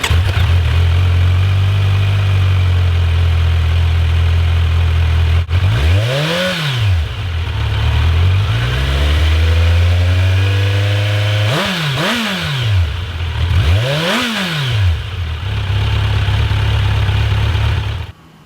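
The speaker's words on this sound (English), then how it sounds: "you can get a feel for what this Kawasaki Z900 sounds like" A Kawasaki Z900 inline four-cylinder motorcycle exhaust, loud and close, idling with a deep steady burble, then snapped through three sharp throttle blips that rise and fall quickly, settling back to idle between them.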